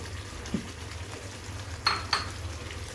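Paneer being stirred in a pan with a utensil, a few soft scraping clinks against the metal over a low steady background, no talk.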